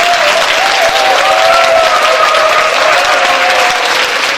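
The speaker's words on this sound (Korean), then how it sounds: "이왕 박수 치시고 크게 한번 치십시오" Loud, dense applause from a large audience at a Korean political talk, sustained evenly throughout with no pauses and a faint tonal whine running beneath the clapping.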